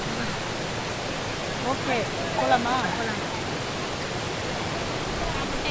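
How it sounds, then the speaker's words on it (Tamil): A waterfall pours heavily in a loud, steady rushing roar that fills the whole scene, while people exchange a few brief words over it. "நாங்கள் இப்போ வந்திருக்கிற இந்த அருவியில் தண்ணி நிறையவே கொட்டிக்கிட்டு இருக்குங்க."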